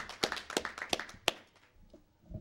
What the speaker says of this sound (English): Let's have a round of applause for all of our FCCLA.